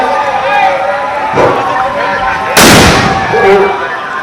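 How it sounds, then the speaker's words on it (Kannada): A simulated bomb blast set off during an emergency mock drill under Operation Abhyas cracks out as one sharp, loud burst partway through, over a steady background of crowd noise and voices. "ಬಾಂಬ್ ಬ್ಲಾಸ್ಟ್ ಆಗಿದೆ"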